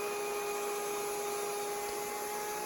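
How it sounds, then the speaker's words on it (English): Router spinning steadily at a table while chamfering the edges of a wooden mallet head, a continuous loud high whine with sharp tonal lines, alone throughout. "Back over to the router table and put the same chamfer on all the edges of the head"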